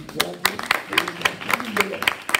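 Scattered hand claps from a church congregation during a Bible class, rhythmic bursts of several clappers close by, with voices faintly underneath.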